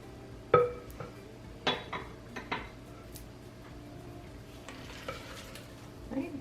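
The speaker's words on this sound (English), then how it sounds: "Right, take a turn or two with our spatula." A spatula turning monster cookie dough in a bowl, with soft scraping and several distinct clinks against the bowl, fairly quiet and spaced over a few seconds.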